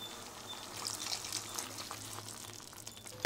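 Strained sugar syrup is poured into beetroot halwa, making a soft, steady liquid splash and trickle for a few seconds under faint kitchen background noise.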